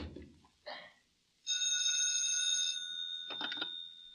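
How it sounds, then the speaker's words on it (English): A telephone bell rings in a radio drama, one steady electric ring of about a second and a half, then a shorter second burst, with a brief murmur just before. "Oh, Mikhail, you shouldn't phone me."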